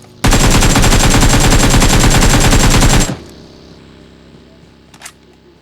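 Automatic gunfire in PUBG Mobile: one loud, unbroken spray of rapid shots lasting about three seconds, then quiet game ambience with a faint distant sound.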